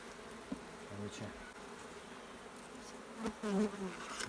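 Honey bees buzzing and droning close by around a log hive during honey cutting, with a few louder passes and faint rustling around them.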